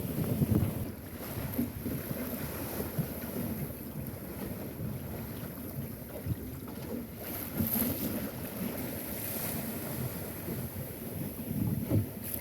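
A 5-metre sailing dinghy pushing through wet, lumpy water in the Walton Backwaters, with constant wind buffeting and hull slapping against waves and splashing spray, loud and close throughout.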